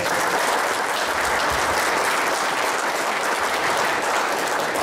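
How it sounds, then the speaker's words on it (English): Steady, sustained applause from a crowd at a political debate, dense clapping that fills the whole stretch without pause or voices. "Let's give him a round of applause."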